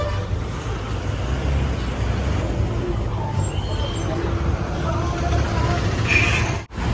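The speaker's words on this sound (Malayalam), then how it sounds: "ഇവിടുത്തെ ഓട്ടോറിക്ഷ." Auto rickshaws move through busy Colombo street traffic at the bus stop outside Colombo Fort railway station, a continuous loud engine hum and road rumble with passing vehicles and a brief hiss near the end.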